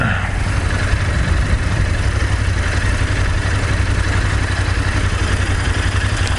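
A motorcycle engine hums steadily at night, a constant low drone with road rumble and no change in pitch, loud and close throughout.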